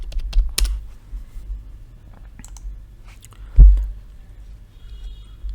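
Sparse clicks on a computer keyboard, a few quick keystrokes spread over several seconds with one heavier thump, close but fairly quiet against low background rumble.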